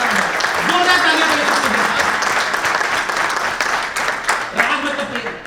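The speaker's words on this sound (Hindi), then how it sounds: "आप मधुकर भाई के लिए जोरदार ताली बजाइए" Applause from a gathering of a small-scale paint industry association, cheering Madhukar bhai; a steady wash of clapping runs throughout, with a voice speaking over it.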